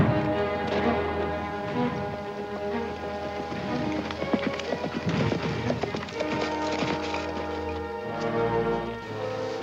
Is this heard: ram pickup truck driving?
no